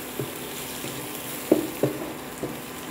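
Egg bhurji frying in a pan, a quiet sizzle broken by several scraping, tapping stirs of a spatula, close and sparse.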